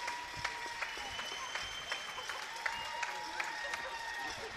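A home crowd applauds and cheers the Scottish men's water polo team at a Commonwealth Water Polo Championship match, with a steady broadband roar punctuated by sharper claps, plus faint talk underneath.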